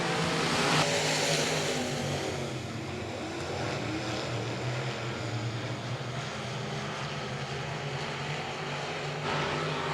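Dirt track race cars roar together just after the green flag at the Southern Nationals at Heart O' Texas Speedway, a dense, continuous engine drone blended with crowd and track noise at a distance.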